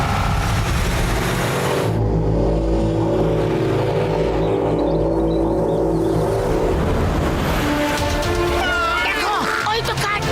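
A cartoon car races through a chase, its engine revving and whooshing with a loud low rumble, mixed under animated voices, music and comic effects.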